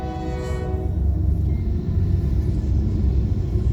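A Norfolk Southern westbound train rumbles past steadily while a loud horn blast sounds at the start, the low roar continuing throughout.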